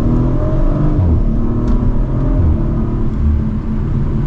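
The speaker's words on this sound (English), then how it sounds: "Mild acceleration for today." 2023 Audi RS5 Coupe Competition accelerating mildly from second gear, heard from inside the cabin as a steady, loud, low engine rumble that rises gradually.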